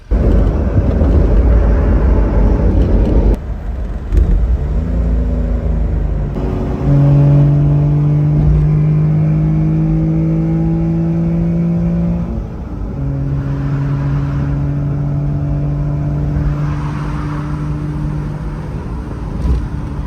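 A Honda Beat's engine drones loudly from inside the car while driving, with a steady rumble that rises in pitch through the gears before easing, and no talking.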